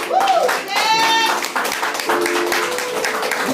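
A church congregation applauding loudly during a service, dense sustained clapping mixed with voices and cheering throughout.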